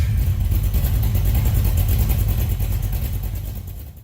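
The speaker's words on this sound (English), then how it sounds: "The low rumble of a 350 on a Saturday morning could make the whole neighborhood peek outside" A 350 V8 engine rumbles low and steady at close range, a deep continuous idle-like throb that fades slightly at the end, with no voices over it.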